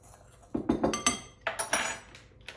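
Ground spices, including ginger, are mixed in a bowl, producing a quick series of close, sharp clinks and scrapes of a utensil against the dish.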